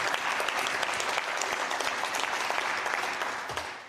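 Steady applause from a boxing congress audience fills the hall, a dense continuous patter of many hands, close and even, fading slightly at the end.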